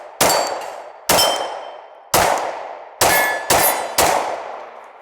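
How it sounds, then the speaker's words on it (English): Bullets strike steel target plates at a shooting range, six sharp metallic clangs spaced about a second apart, each ringing out and fading, clear and fairly near with no talking. "See if we hit those plates."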